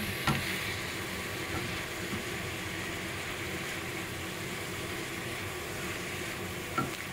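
Steady, fairly faint sizzle and hiss of tofu and celery stir-frying in a wok with a little water, continuous throughout with a couple of small clinks of stirring.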